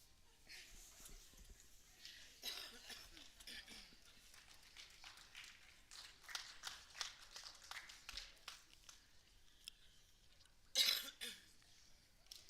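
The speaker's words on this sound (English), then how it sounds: "clearing her throat over there" A woman clears her throat and coughs off-mic in a hushed hall during a women's professional pool final, faint repeated throat sounds under quiet commentary.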